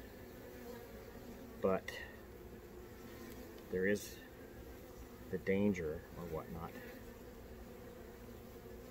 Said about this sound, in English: Bees are awesome.